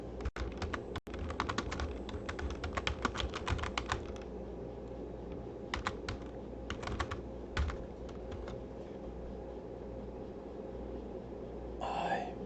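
Typing on a computer keyboard indoors, bursts of quick close clicks with pauses between, plus a throat clear or cough near the start; the clatter stays fairly quiet throughout.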